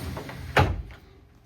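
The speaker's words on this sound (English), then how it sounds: "Sliding door." The sliding cabin door on a 2021 Boston Whaler 345 Conquest boat makes a single short, close slide ending in a soft thud, followed by near quiet.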